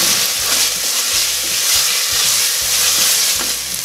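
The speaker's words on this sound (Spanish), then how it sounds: "Y vamos a seguir friendo lentamente." Steady, busy sizzling of chili pepper and grated loche squash frying slowly in a pan, with occasional low knocks from stirring, continuous and close.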